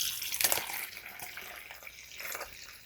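Homemade chicken broth is poured from a container into a plastic milk storage bag, a soft splashing trickle that swells, eases off and picks up again near the end.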